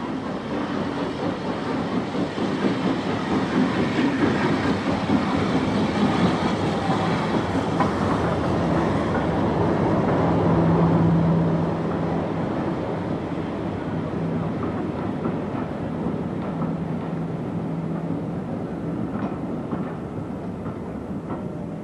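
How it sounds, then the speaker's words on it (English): Heritage railway train hauled by locomotive number 72 with diesel shunter D0226 Vulcan, rolling out of the sidings on the Keighley and Worth Valley Railway; a steady, loud rumble of wheels and engine with rhythmic clatter, swelling briefly at mid-passage. "the train reappears from the sidings with number 72 at the head and diesel shunter D0226 Vulcan"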